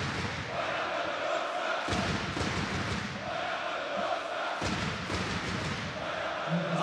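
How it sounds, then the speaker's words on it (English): Hungarian fans at a FIBA EuroBasket 2017 basketball game chant and cheer in a dense, loud crowd roar with rhythmic sung swells and occasional thuds, filling the arena continuously. "the Hungarian crowd brings such an atmosphere to this venue"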